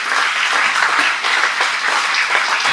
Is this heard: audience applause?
yes